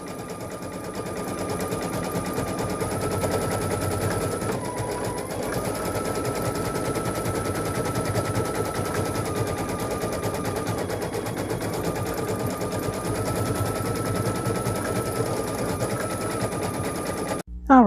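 Close by, a single-needle embroidery machine stitches a child's sweatshirt in a rapid, unbroken mechanical chatter that runs for about seventeen seconds before halting with a brief clunk.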